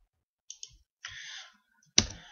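Sharp mouse clicks sound in KiCad 5.0.2 software: a quick double click, a brief rustle, then one louder click, close and isolated against silence.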